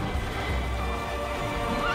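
A horse whinnies in Assassin's Creed, a steady loud neigh over dense game ambience and hoofbeat clatter, with the clip filled by layered background noise throughout.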